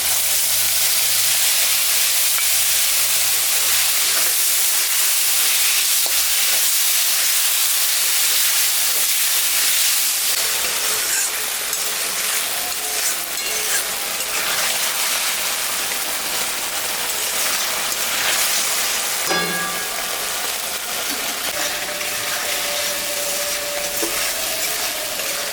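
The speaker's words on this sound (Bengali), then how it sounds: "সর্ষে বেশি ভাজলাম চিটা হয়ে যায়, সর্ষেটা অল্প ভাজতে হয়" Mustard paste with green and ripe chillies, ginger, salt and turmeric fries in a pan for a rohu fish curry with mango, giving a steady, close sizzle with a rain-like hiss and occasional stirring scrapes throughout.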